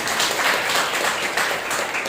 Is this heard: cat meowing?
no